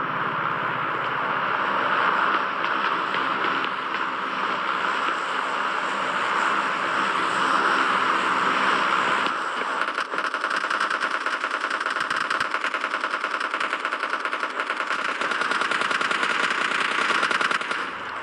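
A vehicle drives in the mobile battle-royale game PUBG Mobile Lite, its engine a loud, continuous droning roar with a rattling edge that holds for the whole stretch, and no voice over it.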